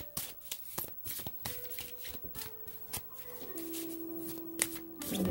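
Energy oracle cards shuffled by hand in quick riffs and slaps, sharp close clicks at an uneven rhythm, followed by a brief low tonal hum toward the end.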